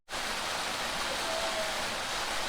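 Hedge Creek Falls in Dunsmuir, California pours over a cliff, a steady close roar of rushing water that starts abruptly and continues evenly.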